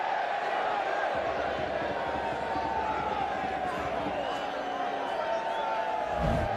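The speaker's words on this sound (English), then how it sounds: "The Salford fans are cheering extendedly" Salford rugby league fans cheer in a sustained, dense roar through a Super League match against Castleford, the crowd noise steady and loud throughout with a brief surge near the end.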